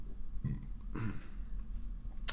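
A man burps once, a short low guttural eructation about a second in, followed by a few faint throaty noises in a quiet indoor room.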